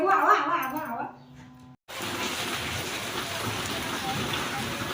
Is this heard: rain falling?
yes